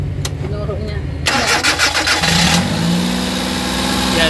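A Suzuki mini van's K6A engine, previously vibrating, cranks and catches, then revs up loudly before settling into a steady idle, with people talking over it.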